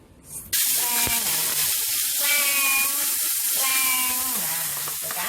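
Vegetable oil heated in a wok for Javanese boiled noodles erupts into a loud, sudden sizzle that holds steady and close for several seconds, crackling and spitting.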